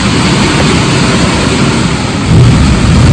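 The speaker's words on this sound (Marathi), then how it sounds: "पाऊस आला जोरात" A loud, steady rush of heavy rain with strong wind fills the scene, with a deep rumbling undertone that swells slightly toward the end.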